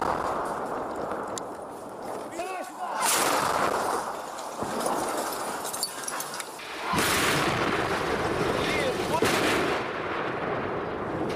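Artillery and heavy weapons fire in the Donetsk region: repeated booms and cracking gunfire, some close and loud, others rumbling farther off, in an irregular barrage.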